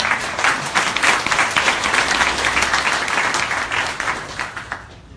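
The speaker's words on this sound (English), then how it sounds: "Can we have a big round of applause, please?" Loud applause from a design event audience for a panel, dense close clapping that holds strong, then thins and dies away in the final moment.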